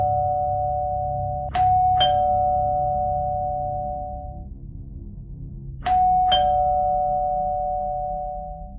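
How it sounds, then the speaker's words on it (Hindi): A house doorbell chimes twice in quick succession, pauses for a few seconds, then rings twice again, each ding-dong tone ringing out clearly and fading in an otherwise quiet room. "तभी मेरे घर की घंटी बार बार बजने लगी।"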